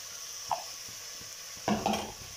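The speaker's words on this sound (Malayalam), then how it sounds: "ഉള്ളി ആദ്യമായിട്ടൊന്ന് വാട്ടിയെടുക്കട്ടെ." Onions sauté in oil in a pan. A soft, steady sizzle runs underneath, broken by two clear utensil knocks and scrapes, one early and a louder cluster near the end, with no speech.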